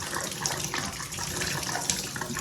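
Water gushing steadily from a bathtub faucet opening after its cartridge was pulled, as leftover water in the plumbing drains out; a continuous, even rush with no voices.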